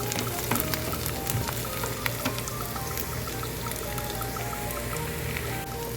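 Small, finely chopped onions frying in a pan for a fenugreek leaf and egg stir-fry, with a steady close sizzle and frequent crackling pops and spits, without talk.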